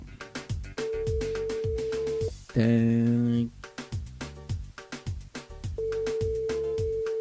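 Electronic beeps and a steady ringback tone from a radio call-in phone line sound over a rhythmic music bed, with a louder, buzzy tone burst in the middle.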